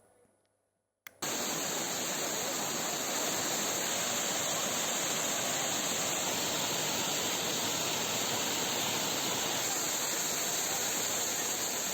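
The Manoori waterfall in Kasaragod, Kerala, a monsoon-season fall, roars steadily and loudly after a brief quiet opening, its rushing wash continuous and unchanging throughout.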